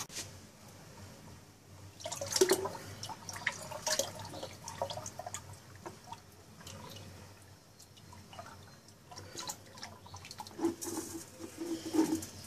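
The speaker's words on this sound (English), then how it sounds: "The mission is to pour the lye into the strainer and to strain it." Lye solution for a large batch of soap being poured through a strainer: a close, uneven trickle and patter of liquid with scattered drips, swelling and easing over several seconds, with no talk.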